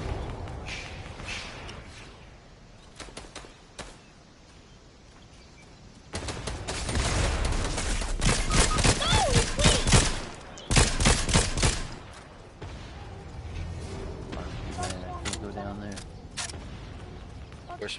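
Bursts of gunfire from the Fortnite zero-build video game, rapid clustered shots in several volleys over a steady background, with players talking throughout.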